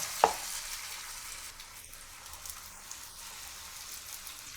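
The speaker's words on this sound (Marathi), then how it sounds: "आता एका बाजूने आपण पाच ते सात मिनिट तळून घेऊया" Pomfret fish fries in hot oil over low heat, giving a soft, steady sizzle after one sharp knock at the start, faint and close with no talking.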